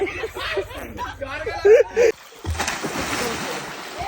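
A swimmer jumps into a cold swimming pool, making a sudden close splash about halfway through, followed by sloshing water; laughter and excited voices come just before the leap.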